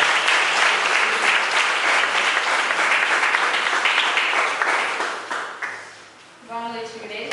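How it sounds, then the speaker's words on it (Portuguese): Church congregation applauding in a dense, steady burst of many hands that fills most of the stretch, then fades out as a voice begins speaking near the end. "Aplaude o Senhor pela presença."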